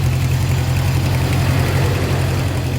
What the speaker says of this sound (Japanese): マフラーエキゾーストノートのこうイメージがすごく